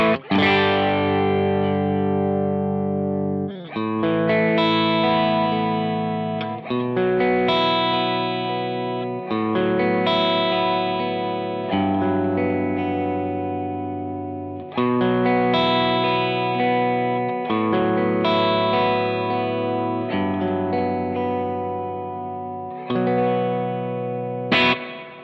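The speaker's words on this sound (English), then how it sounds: "So there's the reverb tank that we've got in it at the moment." A Cornell Studio Rats prototype guitar amp plays distorted guitar chords through its spring reverb tank, loud sustained strums with short gaps and a subtle reverb tail.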